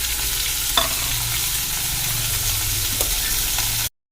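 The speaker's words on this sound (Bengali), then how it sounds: "চিংড়ি মাছটা হালকা ভাজা হলে তার মধ্যে লঙ্কা, রসুন, আদা, পেঁয়াজ সব বেটে দিয়ে দিলাম।" Ground chilli, garlic, ginger and onion paste fries with prawns in a pan, a steady close sizzle with a few stirring clicks before cutting off abruptly.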